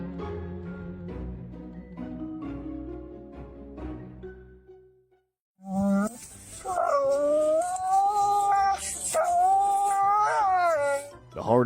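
A German Shepherd howls and whimpers in long, wavering, sustained cries at close range after a brief pause, with other sounds and voices mixed in.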